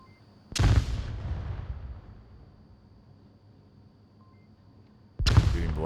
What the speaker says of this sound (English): C4 detonates, doesn't connect.